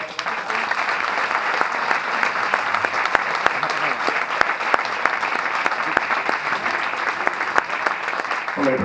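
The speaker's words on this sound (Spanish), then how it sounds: "le damos otro aplauso" A roomful of listeners claps after a talk about Albelda de Iregua, dense and loud, holding steady for several seconds with scattered louder individual claps, then easing slightly at the very end.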